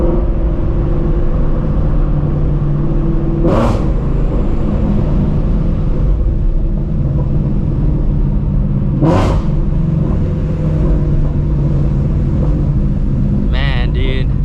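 A loud Procharged Shelby GT350 with open headers rumbles and revs steadily nearby, with two sharp bursts partway through and a crackling flutter near the end.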